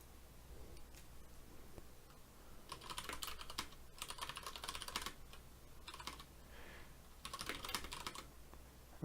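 Computer keyboard being typed on at a terminal, with quick clattering bursts of keystrokes separated by short pauses, close and moderately quiet, with no voices.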